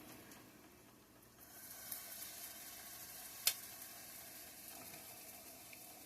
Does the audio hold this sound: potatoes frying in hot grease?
yes